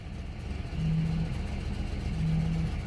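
A 1987 Nissan Pathfinder with a VG30i V6 converted to a Weber carburetor idles steadily around 1,000 rpm, a low even hum close by with a faint rising drone twice.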